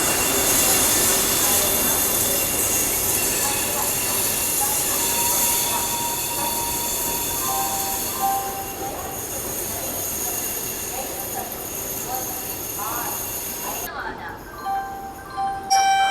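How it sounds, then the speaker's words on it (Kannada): The Rani Chennamma Express pulls in at platform 1 with steel wheels squealing and rumbling loudly close by, and screeching tones rise near the end. "ಬಂದೇ ಬಿಟ್ಟು ನಮ್ಮ ರಾಣಿ ಚೆನ್ನಮ್ಮ ಕ್ವೀನ್. ಇದು ಟ್ರೈನು ಪ್ಲಾಟ್ಫಾರ್ಮ್ ನಂಬರ್ 1ಗೆ ಬಂದಿದೆ"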